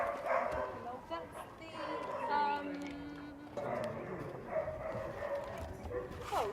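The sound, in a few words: dogs barking at an animal rescue shelter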